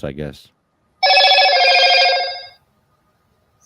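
A mobile phone gives one loud electronic ring lasting about a second and a half, right after a brief spoken remark, and then the room goes quiet.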